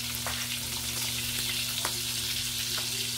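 Pork pieces fry in hot oil with a dense, steady sizzle and occasional sharper pops and crackles, close and constant, with no talking.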